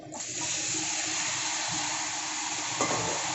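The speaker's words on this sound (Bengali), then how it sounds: "এখন আমি এখানে দিয়ে দেবো চিকেন।" Chicken pieces dropped into fried masala in a pan over low gas, a dense continuous sizzle starting abruptly and holding steady, with a brief clatter near the end.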